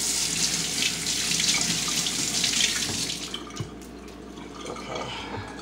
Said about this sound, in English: I just want to rinse my hands off.